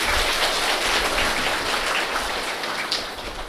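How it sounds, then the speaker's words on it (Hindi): A seated spiritual gathering at a Brahma Kumaris Guru Purnima event bursts into sustained applause, a thick, rain-like patter of many clapping hands that holds steady, then thins slightly near the end. "तालियां बजाओ खुद के लिए"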